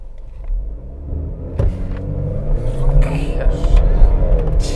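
A 2020 Ford Explorer XLT accelerates hard, its engine rumble building steadily over several seconds with a noticeable shift partway through. A voice speaks over the rising engine.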